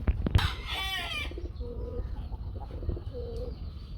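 A pair of local pigeons calls nearby: a short burst of fluttering and rustling, then repeated soft, low cooing notes over faint background noise.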